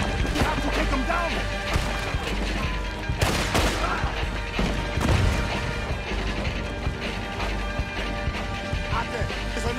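Gunfire rings out in Red Dead Redemption 2, with bursts of shots, crashes and impacts over dense game sound effects, and a loud blast near the middle, while voices talk over it.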